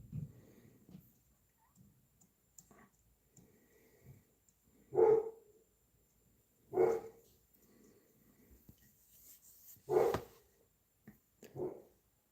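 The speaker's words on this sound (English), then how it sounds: "Don't mind the dogs barking." Dogs bark in short, spaced bursts, about five sharp barks over several seconds with quiet gaps between them, heard somewhat distant and fairly faint indoors, with no talking.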